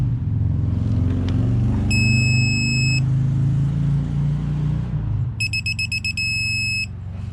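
Tool beeping while tightening the oil cooler on a 2010 Mercedes Sprinter: two bursts of rapid, high electronic beeps, the second longer, over a steady low rumble close by.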